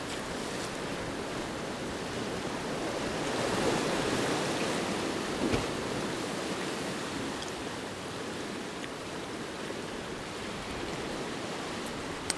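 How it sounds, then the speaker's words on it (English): Ocean waves splash steadily against the rocky shore of Spoon Cove in Upper Island Cove, Newfoundland, a continuous broadband wash of surf that swells slightly midway, with no voices. "Getting a few little splashes there."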